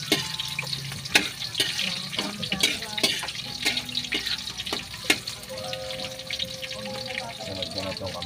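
Garlic and onion sautéing in a pan for chopsuey, a busy, continuous sizzle with stirring and scraping clatter, fairly close, with some faint talk in the background.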